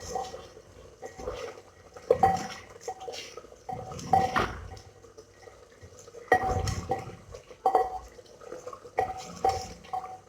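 A cooking pot has white chili, cumin and dried coriander stirred through it. A spoon scrapes and clinks against the pot in irregular bursts, with softer stretches between the strokes.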